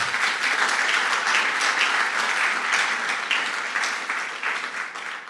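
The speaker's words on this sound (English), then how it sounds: "I would say a round of applause for our panel here." Sustained audience applause for a panel at a health care financing summer school session, a steady dense patter of many hands that stays loud and even before tapering slightly at the end, with no talk over it.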